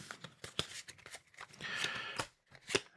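A deck of cards for a fantasy adventure board game is shuffled at close range, a quick sequence of soft riffling and snapping bursts with brief pauses between.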